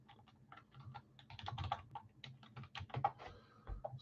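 Rapid, uneven clatter of computer keyboard keys being typed, close and fairly loud, with bursts of keystrokes and brief pauses over a faint low hum, during a live sports card break.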